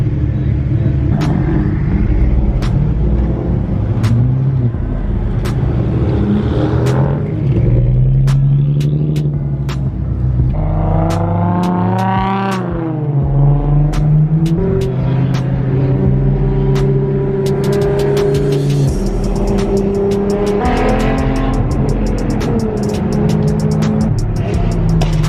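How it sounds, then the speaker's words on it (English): Loud cars at a street car meet, a GTR among them, rev hard in repeated climbing and falling engine roars with sharp bursts and pops, up close and continuous. "Those cars are loud, dude. Especially baby GTR, man. That car is stupid loud."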